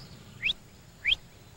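Two short, rising two-note whistle blasts from a shepherd, giving a border collie the left-hand command in the Scottish highlands, spaced about half a second apart and ringing clear over quiet outdoor air.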